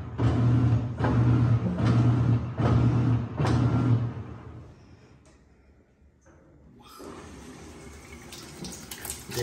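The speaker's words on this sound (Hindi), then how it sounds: "देखिए, पानी बिल्कुल बढ़िया से आ रहा है।" Water runs into a washing machine after its filter has been cleaned. A strong, steady rush comes in surges, then goes quiet and returns as a softer continuous flow.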